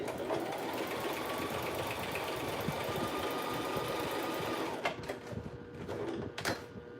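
A sewing machine with an open-toe presser foot stitches a zigzag stitch in a fast, steady run for nearly five seconds, then stops, followed by a few soft clicks and knocks.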